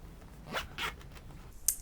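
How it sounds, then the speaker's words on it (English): A zipper closes on a handmade fabric project bag made from quilting cotton fat quarters, two quick close zips followed by a short sharp tick, heard near and alone. "simply zip it up"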